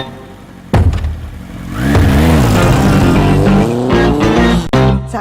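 A motorbike engine revs sharply with a loud burst, then roars up through rising revs as it rides off, staying loud and near before a final blip.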